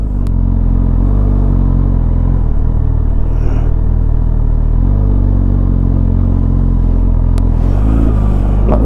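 Honda Hornet 1000SP motorcycle, a 2025 model, turning around on a closed road: a steady close engine rumble throughout, with a brief rev and clatter as it swings through the turn.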